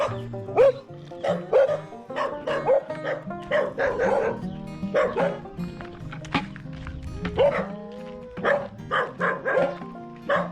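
A dog barks repeatedly in quick irregular bursts, with yips and a whimpering edge, close by and fairly loud.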